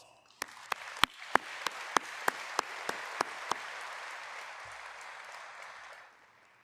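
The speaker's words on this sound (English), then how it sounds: "Can we please give them a round of applause?" An audience at an annual conference opening session applauds award winners, starting with a string of sharp, distinct claps up close and then swelling into steady group clapping that holds for several seconds before stopping.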